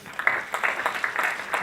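A comedy-club audience clapping at a stand-up show, a short patter of scattered claps from a modest crowd that rises and thins within a couple of seconds.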